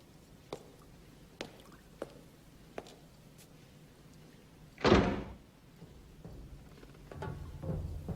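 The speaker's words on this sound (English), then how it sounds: "Would you mind closing the door?" An indoor door is closed with one solid thunk near the middle. A few faint clicks and knocks come before it, and soft rustling follows.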